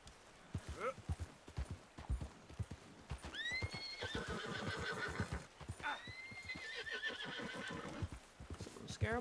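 Horse in Red Dead Redemption 2 clopping along with rhythmic hoofbeats, then neighing loudly twice in high whinnies, close up, with someone talking softly underneath.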